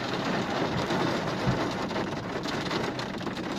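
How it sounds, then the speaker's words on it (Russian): Steady, dense roar of a heavy summer downpour in Ryazan, loud and continuous with no talking. "Нравится шум дождя."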